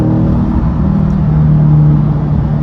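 A Corvette's engine roars loud and close, a deep steady rumble that swells slightly in the middle as it revs, with no speech over it.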